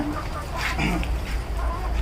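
Many egg-laying hens murmur and cluck together in a crowded five-thousand-bird poultry shed, a dense steady chatter of fowl with a low hum underneath.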